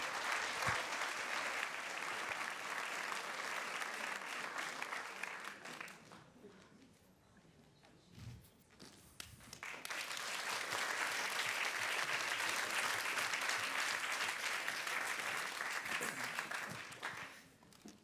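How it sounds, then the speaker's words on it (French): An audience at a reading event breaks into premature applause, a long wave of clapping that dies away mid-way, pauses with a brief voice, then swells again loudly before tapering off. "Applaudissements prématurés."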